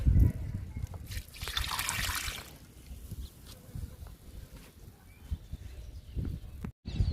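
Liquid is poured onto pink and maroon chrysanthemum plants, with a soft, close trickle and splash that is strongest early and fades to quieter dribbling, with faint handling noises.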